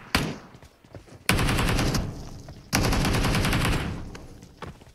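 Automatic gunfire in the mobile battle royale game BGMI, two long loud bursts of rapid shots separated by a brief pause, with a few single shots before and after.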